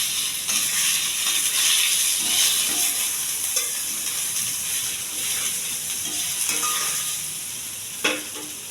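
Soya paneer frying in a little oil with curry leaves and onion gives a steady loud sizzle and hiss, broken by occasional scraping stirs and a sharp clink near the end.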